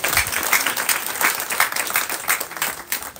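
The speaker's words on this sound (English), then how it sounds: "Let's give God a mighty clap." A crowd clapping outdoors during a field visit to a cocoa farm in Koboko, dense lively applause with uneven surges, fairly loud and close, no speech over it.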